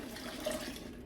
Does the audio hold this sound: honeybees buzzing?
no